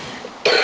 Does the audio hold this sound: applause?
no